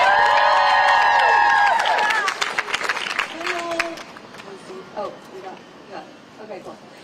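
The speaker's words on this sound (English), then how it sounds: "Let's have a round of applause for Sarah and thank her for sharing her story." Crowd applause at a student walkout at UT Austin supporting abortion and transgender rights, an outdoor crowd clapping with whoops and shouting cheers, loud at first, then thinning into scattered claps and voices.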